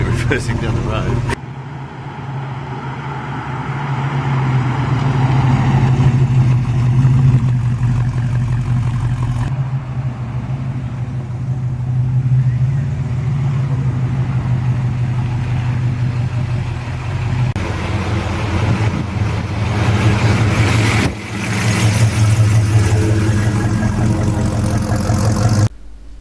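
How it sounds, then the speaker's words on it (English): A restored 1969 XW Ford Falcon engine rumbles steadily at low revs as the car reverses down a road, close and loud throughout. Voices can be heard in places. "Film me reversing down the road."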